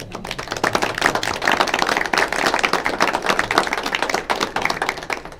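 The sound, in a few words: audience clapping at school board meeting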